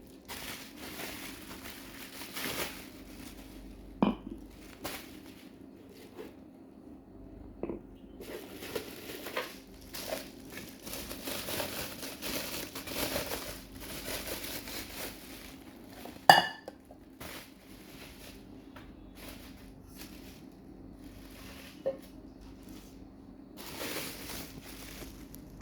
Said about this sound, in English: So I'm going to unwrap them.